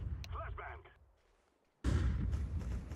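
A flashbang grenade goes off in Counter-Strike 2 as a sudden loud bang that turns into a sustained harsh ring. A brief voice comes just before it.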